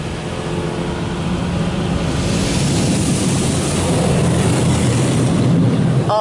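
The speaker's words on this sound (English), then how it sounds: "that buzzing sound is coming from the system itself. It sounds like an airplane." A loud, continuous roaring buzz with rushing spray from the high-pressure spot-free rinse of a poorly maintained PDQ Laserwash 4000 car wash, running close by, steady throughout with no talk.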